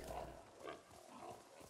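Wild boars in Ghost of Tsushima grunt and snort in short, quiet bursts, a few low grunts in quick succession.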